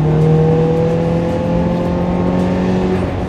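Classic Ferrari 328 GTS engine revving loudly on a racing circuit, a steady sustained drone with strong harmonic tones held throughout, close and continuous with no talk over it.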